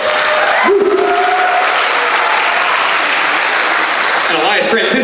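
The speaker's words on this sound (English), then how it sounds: "give him a round of applause" Concert audience applauding at a school district spring band concert, loud sustained clapping filling the hall with a few cheers, an announcer's voice briefly heard at the start and near the end.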